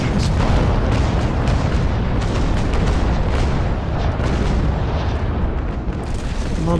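A cannon broadside fired from the frigate Constitution in the naval sailing game Naval Action: a continuous roar of heavy booms blending into one dense, loud rumble with rolling reports throughout.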